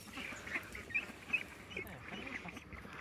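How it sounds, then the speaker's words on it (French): Recently hatched young geese and Indian Runner ducks kept outdoors as farm poultry. Repeated quacking and honking calls sound at close to mid distance, rising in a few louder peaks over the course of the clip. "Des nouvelles des premières petites oies nées cette année, des 3 premiers blancs de l'Allier et de 2 coréens indiens que j'ai gardé pour l'instant."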